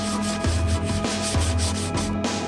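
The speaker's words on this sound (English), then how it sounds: "From above, I sanded this all with the sandpaper" Sandpaper scrubs across burned, textured wood in repeated back-and-forth strokes, a close, steady rasp with a regular rhythm of about one pass every half second, with no voices.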